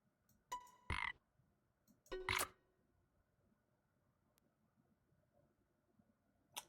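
Loud, close frog croaks from the Storyteller game come in a few short separate bursts with quiet gaps between them and no speech.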